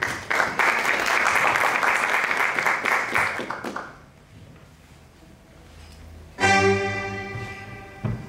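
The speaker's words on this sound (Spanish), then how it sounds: "Recibimos con un fuerte aplauso a la bailarina Mariela Arnao." An audience applauds loudly for about four seconds to welcome a dancer, then fades; music starts near the end.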